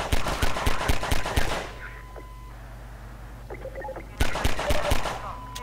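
Gunfire in Half-Life 2, two loud rapid-fire bursts of evenly spaced shots, close, split by a quieter lull with small mechanical clicks and beeps.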